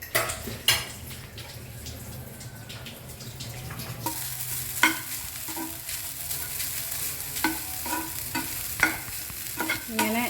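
Grated coconut, with ginger, green chilli and curry leaves, sizzles steadily in a pan for a mackerel curry, with a spoon scraping and clinking against the metal at irregular intervals; the frying grows louder and brighter partway through.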